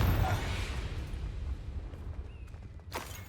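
A Confringo blasting spell cast in the video game Hogwarts Legacy, a deep rumbling boom at the start that slowly fades into a low roar, with a sharp crack near the end.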